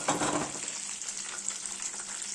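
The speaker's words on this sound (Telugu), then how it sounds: "పోపుకి ఆయిల్ పెట్టి మినపప్పు శనగపప్పు ఆవాలు జీలకర్ర ఎండుమిరపకాయలు పోపు వేయాలి" Urad dal, chana dal, mustard seeds, cumin and dried red chilies sizzle as a tempering in hot oil for semiya lemon pulihora, a steady close hiss with a brief louder burst at the start, no talking.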